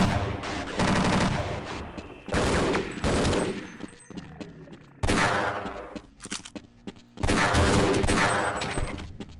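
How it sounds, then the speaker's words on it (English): Bursts of automatic gunfire in Half-Life: Blue Shift, several loud rapid volleys separated by short pauses, with echoing shots and clatter between them. "I want to shoot them with the gun"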